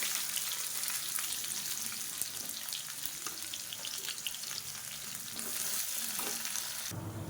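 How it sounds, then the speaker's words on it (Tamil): Long-sliced onion sizzles in a hot pan for a Tamil kulambu, a steady close frying hiss with occasional stirring scrapes throughout. "இப்போ மீடியம் சைஸாக ஒரு பெரிய வெங்காயம் நீளமாக நறுக்குனதை சேர்த்துக்கலாம்"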